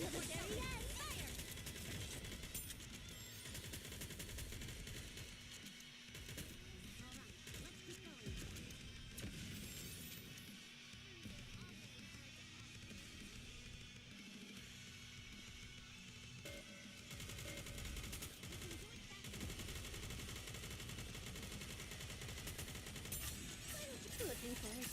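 Steady gunfire from the NIKKE mobile shooter game, dense overlapping bursts of shots running without pause under busy game sound effects and music, with a voice talking now and then over the top.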